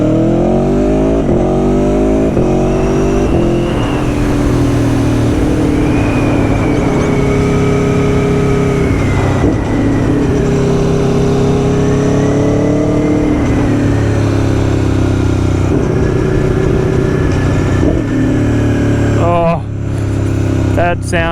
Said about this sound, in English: It's definitely my favourite sounding motorcycle.